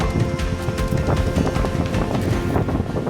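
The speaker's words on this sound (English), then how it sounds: "we have arrived and it is so windy" Strong wind buffeting the microphone in continuous rumbling gusts, loud and close, with no voices.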